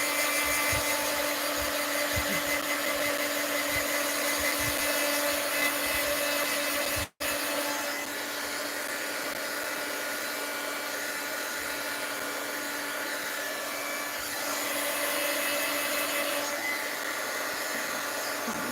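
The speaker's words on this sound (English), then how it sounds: "Let's grab my heat gun. And dry it a little." A heat gun blows steadily to dry a mixed-media art journal page, a loud, continuous whooshing hum that cuts out for an instant and then resumes, running on alone.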